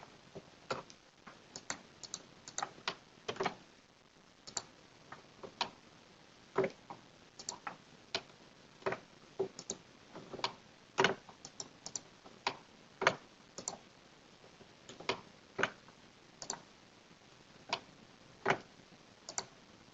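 Computer keyboard keys pressed in irregular bursts of crisp, close clicks during Maya software work, steady light tapping throughout with no talking.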